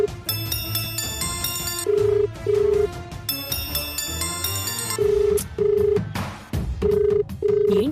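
A telephone rings over and over without being answered, short repeated electronic tones in a steady rhythm over background music, loud and close.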